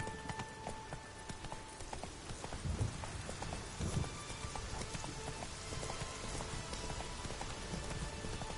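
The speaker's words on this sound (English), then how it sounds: "Whoa there, Roach." Hooves of a horse trot on the ground in The Witcher 3, a steady clip-clop rhythm heard at moderate volume, with soft background ambience and no talking.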